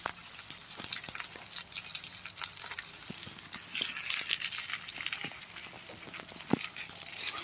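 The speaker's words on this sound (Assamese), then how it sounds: "কেৰাহীটো গৰম হৈছে, পিঁয়াজখিনি অলপ ভালকৈ ভাজি ল'ম।" Onions fry in a hot wok, giving a steady, quiet crackling sizzle with occasional sharper pops and a stirring clack, heard on their own with no talking.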